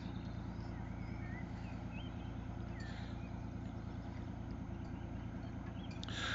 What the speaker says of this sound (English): It looks a bit Venetian water taxi sort of thing to me.